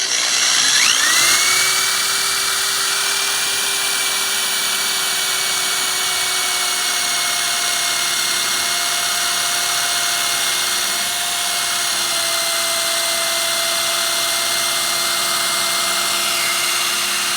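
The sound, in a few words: power drill drilling pocket holes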